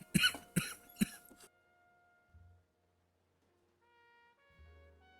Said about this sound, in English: I'm just coughing my lung up here real fast.